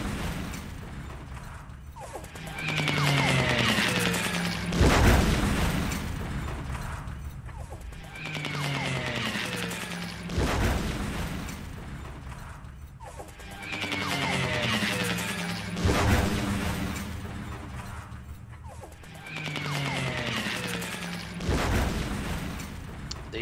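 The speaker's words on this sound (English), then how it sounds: "Here come the bombs." Bombing attacks in the World War II strategy game War in the East, heard as heavy booming blasts and crashing impacts that come in four separate surges, each swelling and then fading, with a lower rumble between them.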